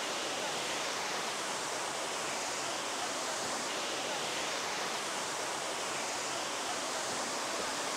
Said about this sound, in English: I just came across that small river stream